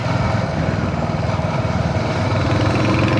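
Motorcycle riding along a road in Kerala, its engine a steady, close, continuous low drone with a rapid throbbing pulse and rushing wind, unbroken throughout with no voices.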